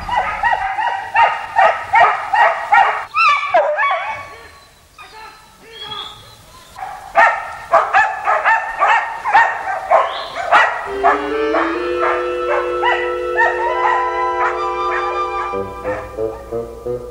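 A Croatian hunting hound baying with a persistent, high-pitched voice, giving repeated loud, rhythmic barks and yelps close by, with a drawn-out howling stretch toward the end.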